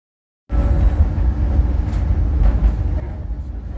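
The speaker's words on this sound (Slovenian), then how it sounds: "Tam srečamo muzejski tramvaj, ki ga je za svoje potnike najela ladijska družba." A museum tram runs through Trondheim, its steady low rumble and rolling clatter of wheels on rails holding close and loud throughout after a sudden start, with no talk.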